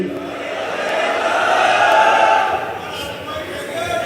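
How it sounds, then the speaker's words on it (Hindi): An audience welcomes the poet Hashim Firozabadi at an all-India mushaira in Etah with a broad, steady wash of applause and crowd noise that swells in the middle and fades toward the end. "तालियों से इस्तकबाल करें उस शख्सियत का"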